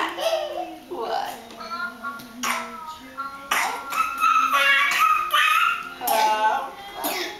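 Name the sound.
pet dog barking and whimpering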